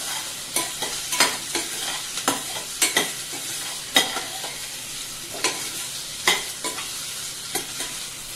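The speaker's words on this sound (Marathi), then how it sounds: "भाज्या तेलात फ्राय करून घेऊया।" Vegetables fry in oil while being stirred. Repeated scraping strokes of a utensil against the pan come every half second or so over a soft, steady sizzle, close and moderately quiet, with no talk.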